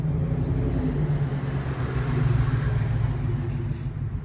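Cars pass on 46th Street in the early evening, a close, continuous engine rumble that swells briefly in the middle and then eases off, with no voices.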